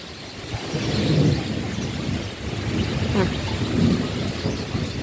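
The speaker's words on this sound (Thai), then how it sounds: "ฝนใหญ่มากแล้ว" Heavy rain roars steadily while low thunder rumbles swell and fade, with faint voices murmuring under the downpour.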